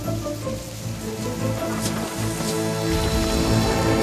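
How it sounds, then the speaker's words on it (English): Rain pouring onto wobbly railway tracks in the countryside, a constant hiss of drops with low rumbling beneath that grows slightly louder toward the end, no voices present. "The rain had made the tracks more wobbly than ever."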